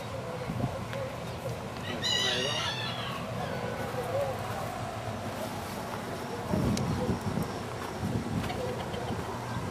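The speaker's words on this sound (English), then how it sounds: "Hey, you got chickens." Chickens cluck in the background while a rooster crows once, a rising, strained call standing out over outdoor noise and scattered voices.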